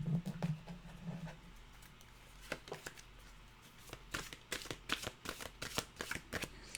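Tarot cards being shuffled, a run of crisp, close riffling flutters and soft slaps in quick irregular bursts, quiet and alone.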